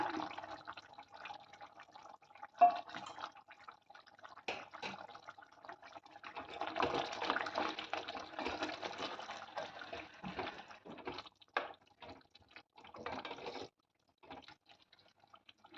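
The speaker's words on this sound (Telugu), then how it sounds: "ఇప్పుడు చికెన్లోకి గోరువెచ్చటి నీళ్ళే పోసుకోవాలండి." Lukewarm water is poured into chicken in a cooking pot, a faint close splashing and trickling fill that comes in uneven bursts with short pauses, alone and quiet.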